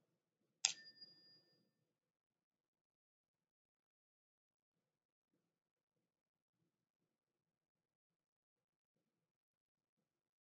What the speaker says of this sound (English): listen to the sound of the mindful bell